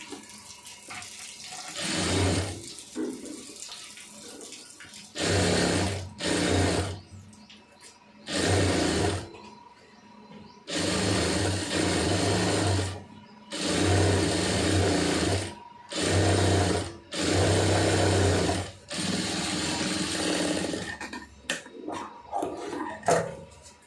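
A sewing machine stitches the seam of a cigarette pant in about ten loud, close bursts of steady whirring. The bursts last one to three seconds each and are separated by short pauses, with faint handling noises between them.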